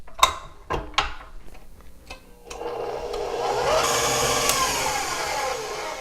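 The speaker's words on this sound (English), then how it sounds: "we're just going to put this in the mixer and just get it light and fluffy" A stand mixer whips butter for buttercream at medium-high speed, starting with a few close clicks and knocks, then a steady mechanical whir that holds to the end.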